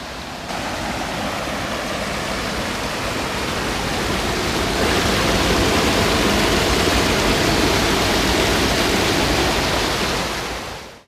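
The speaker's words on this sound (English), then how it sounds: "Very small waterfalls, but pretty nonetheless." Small waterfalls along a wooded trail in Caesar Creek State Park give a steady, full rushing wash of falling water, constant and close for the whole stretch with no voices.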